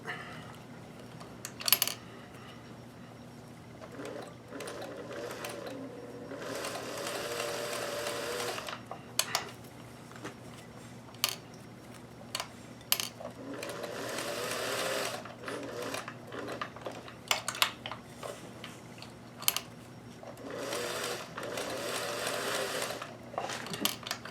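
Singer 431G sewing machine stitching lace onto a bodice, bursts of steady rapid motor-driven stitching alternating with brief pauses and clicks, close and clear under a constant low hum.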